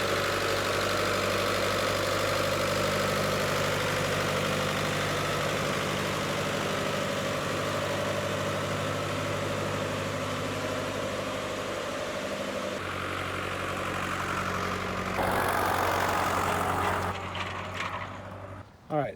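A tractor engine runs steadily nearby at a low, even idle-like drone for most of the stretch, rising slightly near the end before cutting off.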